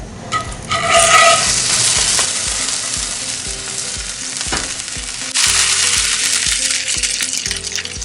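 Snapper fillet returned skin-side down to a hot pan, frying with a loud, close, continuous sizzle that swells as the fish goes in, with scattered clicks and scrapes of the pan and utensil.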